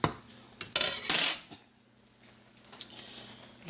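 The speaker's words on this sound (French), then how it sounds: "On mélange bien nos pâtes." A utensil stirs macaroni in a pot as cheese is about to be added, giving a few sharp clinks and scrapes against the metal early on, then quieter rustling.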